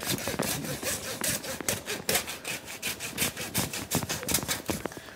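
A hand saw cuts through game during field dressing, producing a close, rhythmic rasp of back-and-forth strokes, about a dozen even pulls in quick succession with no talking.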